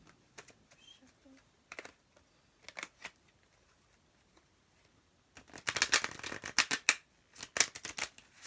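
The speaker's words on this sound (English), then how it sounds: "Shuffle." Tarot cards shuffled by hand in bursts of crisp, riffling clicks, sparse at first then dense and close, following a brief spoken word.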